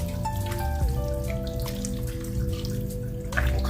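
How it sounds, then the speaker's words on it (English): Stirring Lipton onion soup mix into a pot of chitlins and pot liquor, a steady wet sloshing and dripping churn that carries on loud and close without pause, with no one speaking. "Go ahead and stir it in there real good."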